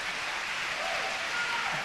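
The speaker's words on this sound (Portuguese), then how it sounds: "Pode aplaudir o Senhor" A church congregation at a consecration service applauds in a steady, even wash of clapping that sounds somewhat distant and moderately loud, with no speech on top.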